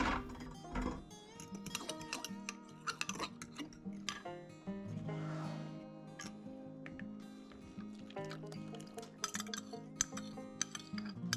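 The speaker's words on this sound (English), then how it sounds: "Mix it all together and pour it into the cornmeal mixture." A spoon stirs cornbread batter of cornmeal, milk and melted butter in a bowl, giving soft scraping swirls broken by sharp clinks against the sides. It is close but quiet, with no voices.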